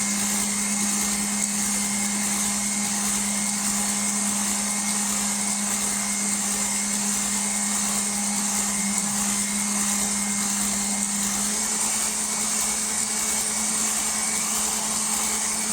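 An electric mixer whirs steadily while beating génoise sponge batter, with the eggs and sugar warmed over a bain-marie. The motor hum stays loud, close and constant the whole time, with no voices.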